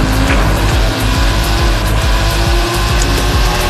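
Race car engine in Forza Horizon 5 roaring steadily and loud throughout, with repeated rhythmic gear-shift dips and a droning low rumble, no voices.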